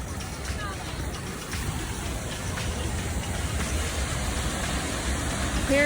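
A mossy waterfall in Bryce Canyon gives a steady, broad rushing roar that stays close and constant, with faint voices in the background.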